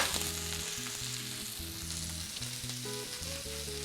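Beef short ribs sear in a hot pan, browning with a steady, close, continuous sizzle and frying crackle that carries on for the full stretch without any talk over it.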